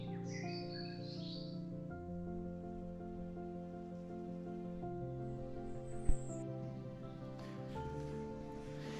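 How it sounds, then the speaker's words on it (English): Birds chirp and sing in a quiet forest, with a cluster of high calls near the start and fainter calls later over a steady, even background hum. "You can hear the birds are singing all the time."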